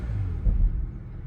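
From inside the cabin of a 2016 high-mileage Bentley Bentayga with a W12 engine, a low muffled rumble swells briefly in a short rev, then settles back.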